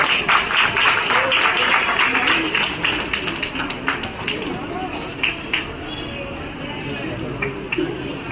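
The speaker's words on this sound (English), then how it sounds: "A round of applause, please." Graduation-day audience at a government first grade college applauds in a sustained burst of dense clapping that peaks early and gradually thins, with crowd murmur underneath.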